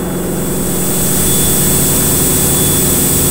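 A light aircraft engine roars at full throttle during a night takeoff in the traffic pattern, a loud, steady, close drone with a constant whine, alone without talk.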